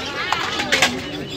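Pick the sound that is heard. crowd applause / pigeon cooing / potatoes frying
pigeon cooing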